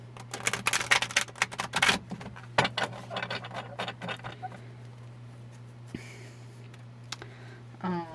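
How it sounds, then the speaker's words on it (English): A quick burst of crisp fluttering clicks as cards are riffled together, followed by a few scattered taps and shuffling sounds in a quiet room. "with the Riffle shuffle."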